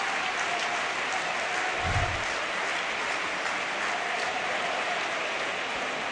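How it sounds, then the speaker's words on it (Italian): A stadium crowd at an Inter versus Siena football match gives a standing ovation, with steady, loud applause and dense clapping that holds evenly throughout. "C'è una standing ovation per il presidente Moratti"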